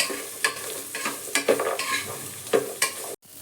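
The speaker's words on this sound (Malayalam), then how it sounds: "വെളുത്തുള്ളിയൊക്കെ ഒരു ബ്രൗൺ കളർ ആവുന്നിടം വരെ നമുക്ക് ഇളക്കി കൊടുക്കാം" Sliced shallots and garlic fry in a pan under repeated stirring: a spatula scrapes and knocks in uneven strokes over a soft background sizzle, and the sound cuts out briefly near the end.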